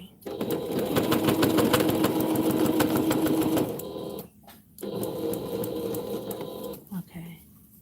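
A sewing machine stitches quilt binding in two steady motorized runs, the first lasting several seconds and the second shorter, separated by a brief pause, with people talking nearby.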